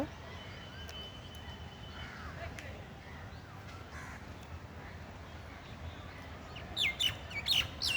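Crows caw and small birds chirp outdoors, mostly faint and distant over a steady low hum, with a brighter cluster of calls near the end.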